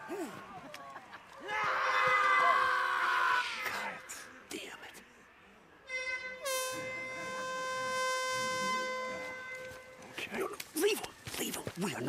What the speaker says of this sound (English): Rippers, they use air horns to attract freaks.